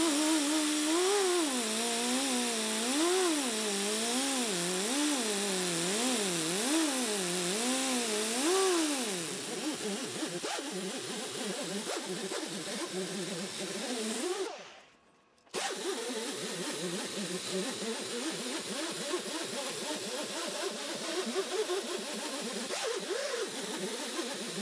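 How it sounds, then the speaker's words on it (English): Buffing wheel polishing an Epiphone guitar body, a loud whining motor tone that wavers up and down as the piece is worked against it, steadying into a continuous drone with a brief dropout midway. "Buffing time."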